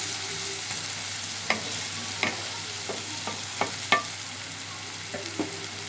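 Drumstick pieces frying in a pan for a Telugu drumstick-tomato curry, a steady sizzle with occasional scraping stirs of a spoon, close and alone without talk.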